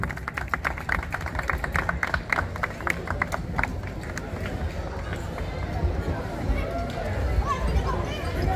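A crowd claps at a rhythmic band festival award ceremony in Jinotega. The applause is uneven and somewhat distant, mixed with a steady murmur of audience chatter.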